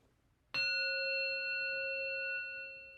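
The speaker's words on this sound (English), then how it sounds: "Then you will hear another bell." A single meditation bell struck once, ringing out with a clear sustained tone that slowly fades in a quiet room.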